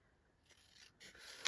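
Scissors trim paper for a mixed media autumn tag, giving faint close snips and a soft slicing rasp that builds toward the end of a short quiet moment.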